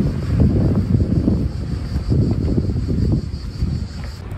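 Steady wind buffeting the microphone at a beach, a continuous low rumbling roar with gusts rising and easing, no voices.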